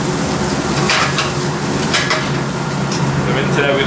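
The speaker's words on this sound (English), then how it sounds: "So we're going to start with the stir fry, our Thai paste." Thai curry paste frying in a stir-fry pan, a steady dense sizzle with occasional scraping and stirring clinks of utensil against the pan, close and fairly loud throughout.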